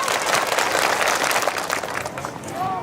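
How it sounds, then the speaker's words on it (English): An elementary school audience claps their hands at a school assembly in a dense, loud burst of crowd clapping that carries on for a few seconds and thins slightly near the end. "Everybody clap your hands."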